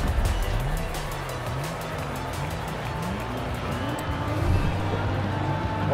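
Subaru rally car in Forza Horizon 4, its engine revving up and down through repeated rising gear pulls, with tyre noise at a loud, close, constant level.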